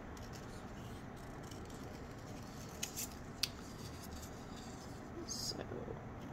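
Scissors snip through paper word tags for a junk journal with soft, close cuts and a couple of sharper clicks over a low, steady background hum.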